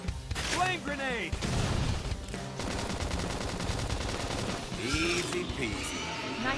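Video game gunfire in Xenoblade Chronicles X, with bursts of shots and mechanical battle effects mixed with game music and voiced combat callouts.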